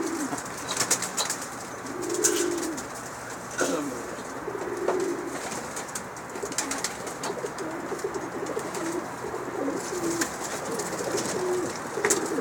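Pigeons coo repeatedly at close range, soft rolling calls recurring every second or two, with a few wing flaps and faint chirps in the background and no one talking.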